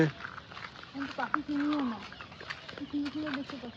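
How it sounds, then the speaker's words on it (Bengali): Birds calling outdoors, including doves, in a rural woodland getaway near Bolpur: several short tonal calls and coos at moderate distance, repeating irregularly over a soft background, with a voice faintly present. "তারপরে পাখির আওয়াজ শোনা যাচ্ছে।"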